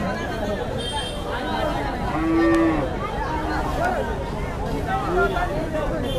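Local breed cattle moo a few times amid the chatter of a busy cattle market crowd in Hajiganj, Sylhet, one long low moo standing out in the middle.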